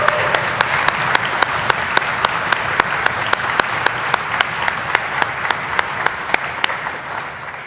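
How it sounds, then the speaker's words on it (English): An audience at a welcome session of an annual general meeting gives a round of applause, continuous clapping from many hands with sharp individual claps cutting through at regular moments. "So a huge round of applause,"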